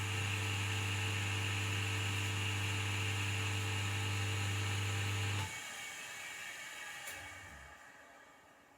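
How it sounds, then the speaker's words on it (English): A second-hand woodturning lathe runs with a steady electric motor hum and whine, then switches off and spins down, leaving fainter fading mechanical noise. "I'll switch it on just so you can hear how it sounds. It's a lot quieter than my other lathe was."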